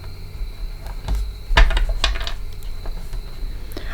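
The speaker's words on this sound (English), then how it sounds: "So I gave you some extra shuffles." A Cosmic Tarot card deck being shuffled by hand: soft papery riffles and a few sharper card snaps and taps close by, irregular over a low background hum, with no talking.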